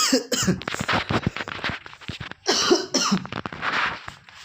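Several harsh coughs from a dry throat in quick succession, close and loud, with throat-clearing between them.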